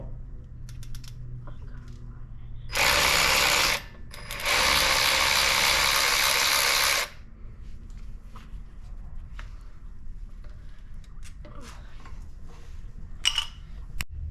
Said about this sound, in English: And now we're taking off the top caliper bolt.